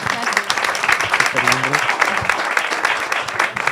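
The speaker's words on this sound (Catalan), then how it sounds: "Un aplaudiment per a Paqui, per favor." Audience clapping at a poetry event in Ràfol de Salem, lively and uneven applause with a voice briefly audible through it and talk mixed in throughout.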